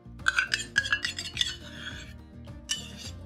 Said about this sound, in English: So I'm going to add a bit of curd.